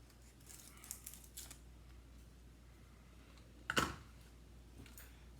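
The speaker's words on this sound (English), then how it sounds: "I also take the knife and trim up this little bit of shagginess" A knife trims small wood shavings off a wooden beehive frame, giving a few faint scraping snips and one sharper cut partway through, all close and quiet against a soft room hum.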